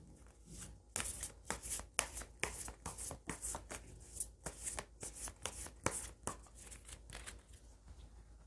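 Tarot cards shuffled by hand in a steady run of crisp riffling bursts and soft slaps, close and fairly quiet, with no talking.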